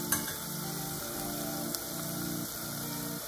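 Onion and ginger-garlic paste fry with spices being added for a peas and potato curry, making a steady close sizzle over a low, rhythmically pulsing hum.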